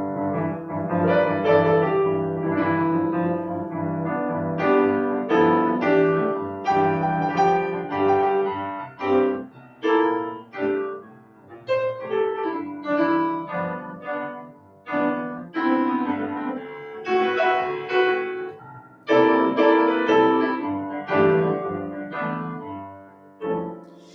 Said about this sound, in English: The underlying chord progression here is a 12-bar blues, which in this key sounds something like this.